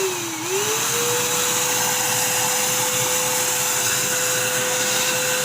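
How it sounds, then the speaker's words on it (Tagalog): A Temm vacuum cleaner runs steadily after being switched on, its motor whine rising briefly and then settling into a constant, loud, close hum with no talk over it. "working lang po yung vacuum cleaner, thankfully"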